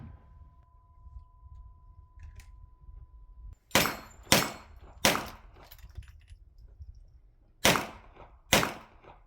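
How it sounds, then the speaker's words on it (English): Five loud, sharp rifle shots from a .257 Weatherby firing 135-grain bullets crack out close by in two groups, each with a brief decaying tail, over a steady low outdoor hum. "Now I'm shooting a 135 grain bullet."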